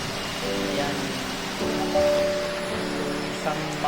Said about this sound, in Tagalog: So, ayan, lakas ng buhos ng ulan.